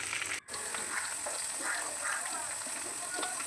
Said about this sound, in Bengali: ডিমগুলো ভেজে তুলব